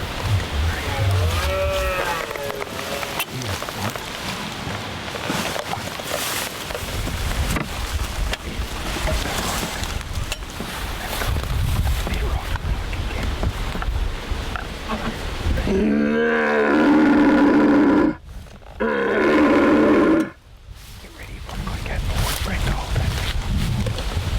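Red deer stag roaring out in windy open country, a few deep, drawn-out bellows, faint at first then louder and closer, over heavy wind rumble with occasional quiet talk.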